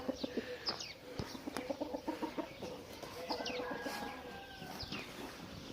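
Chickens cluck nearby in short, repeated bursts, with a few louder calls over a quiet outdoor background.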